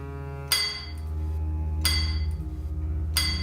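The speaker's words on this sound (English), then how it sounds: "The miner is nearly finished drilling the last hole." Metallic clinks ring out at a slow, steady pace over a low continuous hum as a miner hand-drills a hole in rock with hammer and drill steel in a mine in New York State.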